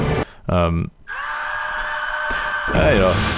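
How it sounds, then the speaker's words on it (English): Horror-style scream effects inside a dark orchestral overture titled Nightmare to Remember: a brief wailing vocal cry near the start, then sustained tonal orchestral layers with a swooping shriek late in the clip, loud and up front. "I put in these sort of like scream effects that are like, when you hear them on their own, like really, really horrible"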